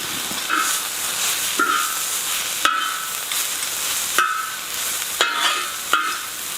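Ginger, chopped garlic and vegetables fry on a hot discada in a steady hissing sizzle, broken every second or so by sharp scraping stirs of a metal utensil against the disc.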